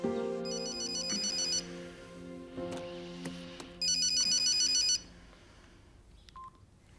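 A telephone ringtone plays in two bright, repeating bursts a few seconds apart, sounding over a steady bed of background music.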